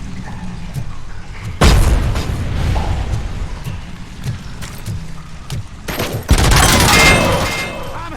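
Turret gunfire and heavy explosions in the video game RoboCop Rogue City: two loud, close bursts of firing and booms break over a rumbling battle background.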